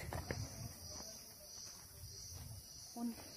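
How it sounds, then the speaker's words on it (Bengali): Crickets chirping steadily in the evening in a garden seating area with flowering plants at Aritar, Sikkim, a continuous high trill, fairly faint, with occasional soft footsteps and a brief low voice. "ঝিঝি ঝিঝি পোকার ডাক শুনতে পাচ্ছ তোমরা?"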